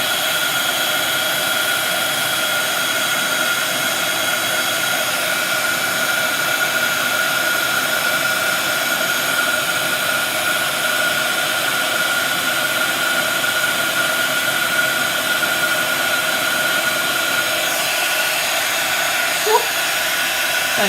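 A heat tool blows a loud, steady, hissing roar without pause as it warms a crafted card from underneath, close by and unbroken throughout.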